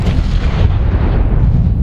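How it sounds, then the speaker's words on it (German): A GBU guided bomb detonating in the game Medal of Honor, a loud, sustained booming blast with heavy rumble that rolls on for nearly two seconds, no voices over it. "Und die andere machen wir mal mit der GBU platt."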